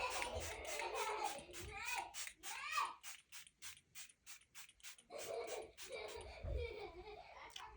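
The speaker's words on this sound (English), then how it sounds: "You can hear my kids in the background." Children playing in another room, their high-pitched chatter, squeals and giggles rising and falling in short bursts, with a dog whimpering and sharp clicking sounds scattered through the mix.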